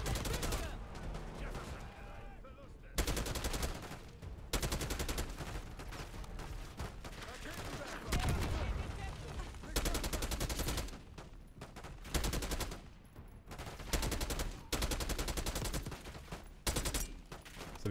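Bursts of automatic gunfire from Call of Duty: Black Ops 6, loud and sustained with repeated volleys and short gaps, game effects mixed under occasional voice.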